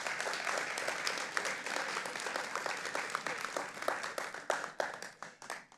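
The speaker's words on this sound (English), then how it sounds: "Give yourselves a round of applause." Students at a Parker University ceremony give a sustained round of applause, dense steady clapping from a crowd that thins and tapers toward the end.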